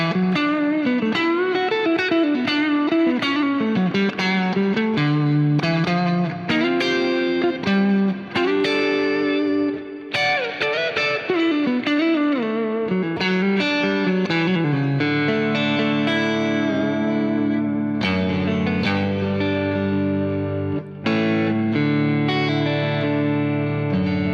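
Electric Suhr guitar plays chords and single notes through heavy effects, each note ringing out into a long, roughly four-second reverb tail that fills the gaps.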